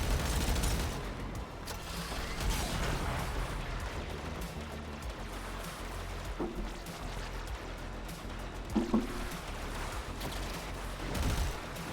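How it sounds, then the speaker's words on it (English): The Mower weapon fires in the video game Warframe, a steady stream of rapid, punchy shots and booming impacts rolling on for about twelve seconds, with a few sharper bursts toward the end and no talking. "The Mower is a satisfying weapon to use."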